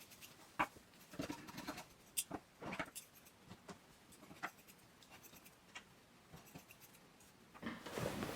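Scissors snip through the worn fabric of an old quilt as its blocks are cut apart: faint, scattered cuts and rustles at close range, with no one talking.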